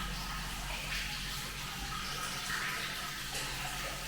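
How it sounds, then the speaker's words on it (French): Shower water runs steadily in an Indonesian hotel bathroom near Yogyakarta, a continuous broadband hiss of spray close by with no talk over it. "Voilà la douche."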